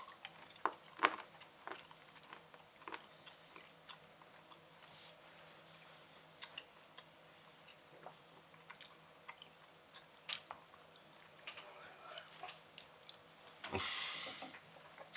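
Someone chews milk chocolate close to the mic. Quiet, irregular bites and soft crunchy clicks are spaced across a hushed room, with a brief louder rustle near the end.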